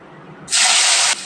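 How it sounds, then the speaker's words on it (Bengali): Turnips dropped into hot oil, reused after frying fish, for a winter turnip and pabda fish dish: a sudden loud, steady sizzling hiss starts mid-clip, holds for about half a second, then eases slightly. "আমি একই তেলে হচ্ছে শালগমগুলো একটু ভেজে নেব।"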